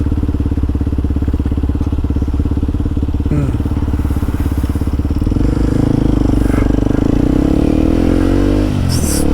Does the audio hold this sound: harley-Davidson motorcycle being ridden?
yes